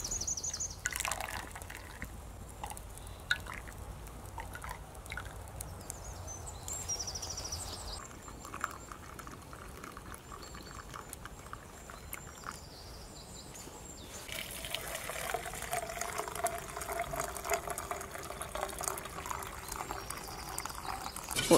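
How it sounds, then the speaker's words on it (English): Cold water poured out around a camp during a week of hammock-and-tarp camping, heard as a soft, splashing liquid wash that swells louder in the second half, with faint birdsong in the background and no talk. "I'm gonna pour the cold water around."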